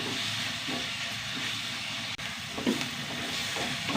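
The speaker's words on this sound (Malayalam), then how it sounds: "ഉള്ളിയും തക്കാളിയൊക്കെ നന്നായി വഴണ്ട് വന്നു കേട്ടാ." Onions and tomatoes sautéing in a pan for a Kerala-style curry, a steady close hiss and sizzle running throughout without talk.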